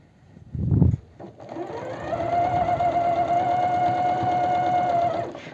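A sewing machine stitches stretch fabric for a longsleeve top, running in one steady, even burst of a few seconds after a short handling knock.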